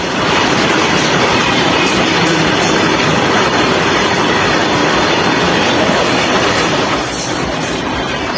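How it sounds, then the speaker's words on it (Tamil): A driverless runaway freight train rumbling past close by at about 100 km/h between Jammu and Kashmir and Punjab, loud and continuous, with rhythmic clattering of wheels and occasional metallic squeal. "ஜம்மு காஷ்மீர் பஞ்சாப் இடையே ஓட்டுநர் இல்லாமல் ஓடிய சரக்கு ரயில் 100 கிலோமீட்டர் வேகத்தில்"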